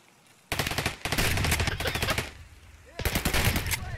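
Shotgun slugs fired in a first-person shooter, heard as loud bursts of rapid, repeated blasts in two volleys with a short gap between them, close and dominant.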